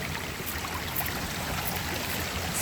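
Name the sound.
flowing stream water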